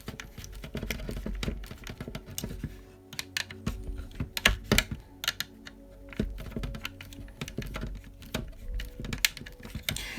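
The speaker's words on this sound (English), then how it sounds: "this is hard plastic going into hard plastic, so with the tapping screw, as soon as you're at the end, you'll know" A tapping screw is driven into a hard plastic part of a Tamiya Fast Attack Vehicle model on the FAV chassis, giving close, dense clicking and ratcheting taps in irregular bursts.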